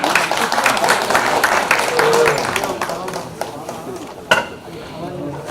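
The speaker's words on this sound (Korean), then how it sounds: "큰 박수로 모시겠습니다." A room full of people applauds warmly at a lecture, the clapping fading out over a few seconds before a single louder knock.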